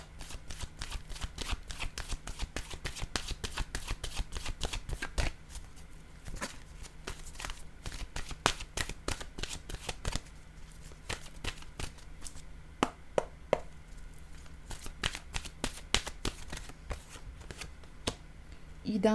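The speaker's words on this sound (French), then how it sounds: "Je vais choisir maintenant une carte de mon oracle de l'âme intuitive." Oracle cards are shuffled by hand in rapid, crisp riffles, loud and close at first and then lighter with pauses, while a voice talks quietly over them.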